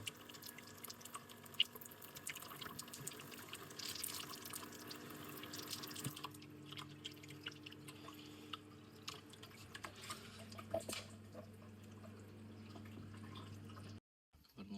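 Water runs steadily through a flow-through household water filter as the supply is turned on, a continuous tap-like rush with faint drips, fairly quiet and alone, ending in a brief cutoff.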